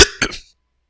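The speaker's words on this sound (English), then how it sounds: "Excuse my coughing." Two quick, harsh coughs close up, the second slightly softer, followed by silence.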